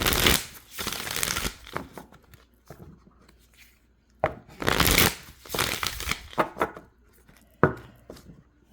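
Tarot and oracle card decks being shuffled by hand, in close, crisp riffling bursts that come in uneven clusters with short pauses between them, no voices over the top.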